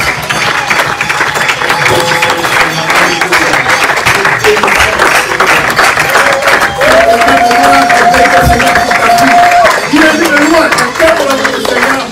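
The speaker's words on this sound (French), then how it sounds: "Acclamation du Seigneur" A church congregation applauds and cheers during a Sunday service in Ottawa, a steady broadband wash of clapping and crowd noise filling the room, with a sustained sung or held tone rising over it partway through.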